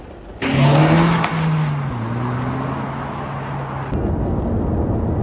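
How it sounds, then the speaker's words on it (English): A Honda Civic Type R engine roars loudly as the car pulls away, the note climbing through the gears with a shift dip, then settling into a steady drone of road and engine noise. "it's time to take this car for a drive"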